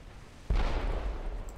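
A torpedo strike in a naval battle game, a sudden deep boom that swells into a heavy, rumbling explosion and lingers loudly for about a second.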